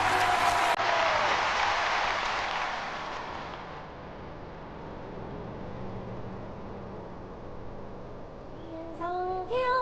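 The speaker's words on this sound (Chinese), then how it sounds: "接下来让我们掌声有请好戏推荐官。" Audience applause for an announced guest at a televised Yue opera showcase, a dense burst of clapping at the start that fades into room noise, followed by faint music near the end.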